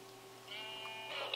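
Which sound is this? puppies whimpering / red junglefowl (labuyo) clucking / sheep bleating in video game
sheep bleating in video game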